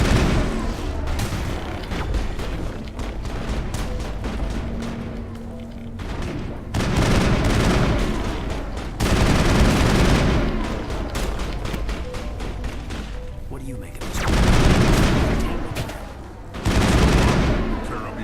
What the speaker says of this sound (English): Can we get a bunch of explosions here,